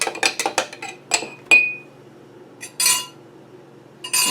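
A spoon clinks rapidly against a glass while stirring sugar into coffee, a burst of bright ringing taps followed by a few scattered clinks and short scraping sounds, close and clear.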